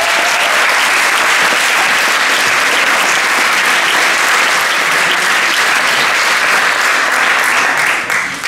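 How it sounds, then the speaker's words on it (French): Sustained audience applause at a political activist gathering in Gironde welcoming François Ruffin and his team, loud, dense and continuous for several seconds before tapering slightly at the end. "On peut les applaudir."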